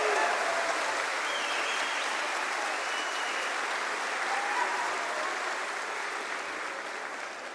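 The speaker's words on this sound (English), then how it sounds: "give yourselves a round of applause" Sustained applause from a large audience at a Counter-Strike esports Major quarterfinal in Manchester, a dense even wash of clapping that holds steady and slowly fades toward the end, with no talk over it.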